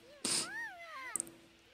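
Cat meowing in The Sims 4 video game, one drawn-out rising and falling meow, fairly faint, followed by a brief second call and a couple of small clicks.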